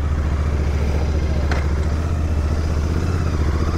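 A Royal Enfield Goan Classic 350 motorcycle runs with a steady low, pulsing engine thump at close range, its rhythm even throughout, with a brief higher tick midway and no talk.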